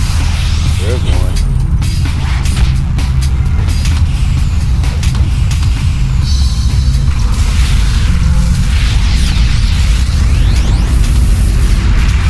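Bombs exploding in City of Heroes, loud dense low booms and bursts under a continuous rumble of battle, with talking running over the din throughout.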